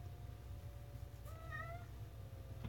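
A cat gives a single faint, rising meow partway through, over a steady low background hum in a quiet room.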